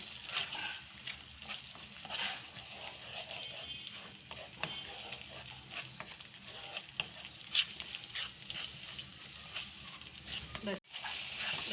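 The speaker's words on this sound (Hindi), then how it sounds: "बस इसको भी 1 से 2 मिनट फ्राई कर लें" Salt, chili and spice masala frying in a pan for a Memoni chicken khausay, a steady close sizzle with occasional stirring scrapes.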